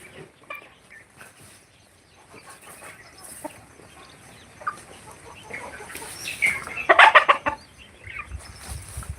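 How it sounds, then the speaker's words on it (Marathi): Free-range country chickens cluck softly in the background on a poultry farm, with a louder burst of squawking near the end, outdoors with some rustling. "अशा पद्धतीने गावरान कोंबड्या दिसतात"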